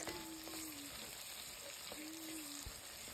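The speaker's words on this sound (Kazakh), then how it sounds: "Пиязымызды қатты өлдірмей қуырамыз" Steady sizzling and crackling of onions frying in a hot pan, continuous and close, with occasional clinks of a utensil.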